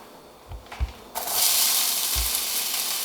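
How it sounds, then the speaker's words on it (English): Peppers and other vegetables hit a hot pan and a loud, steady sizzle takes over after a couple of soft thumps, continuing close and bright to the end. "That's a good sizzle."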